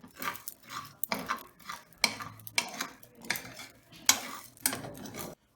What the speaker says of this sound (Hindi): अब कमरकस को फ्राई करते हैं हल्का सा।